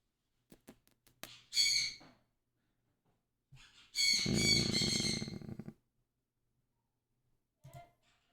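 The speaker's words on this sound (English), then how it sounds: "the reason why the baby bird squawks so much is because he likes my wife" A pet baby bird squawks from its cage indoors in a few sharp, loud bursts separated by quiet gaps, with the longest squawk lasting over a second.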